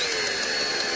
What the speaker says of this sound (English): I'm going to try plan B, which is use an electric drill